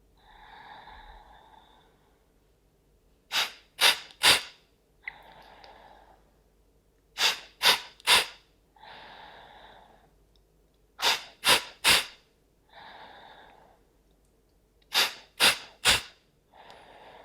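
Forceful yoga exhalations snort through the nose in quick triplets, each set of three sharp bursts separated by quieter breaths in, repeated four times, close and clear with no talking.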